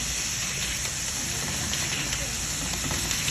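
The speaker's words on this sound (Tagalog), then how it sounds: "Dito naman sa kabila, nagpapainit ako ng mantika para sa ating okoy." Cooking oil heating in a pan for shrimp fritters (okoy), giving a steady dense sizzle and crackle close up with no pauses, while someone talks over it.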